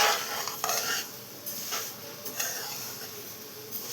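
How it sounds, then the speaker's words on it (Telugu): Sesame seeds dry roasting in a small pan (bandi), stirred throughout, with a steady soft rustle and light scraping of the utensil, close up, broken by a few brief louder scrapes and clinks. "నువ్వులు అయితే వేపుకుందాం."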